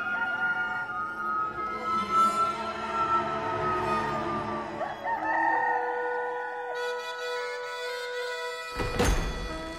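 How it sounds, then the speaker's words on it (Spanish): A rooster crows close by in long, rising and falling calls, with clucking fowl around it and a sharp thump near the end, and no one speaking. "Y al instante cantó un gallo."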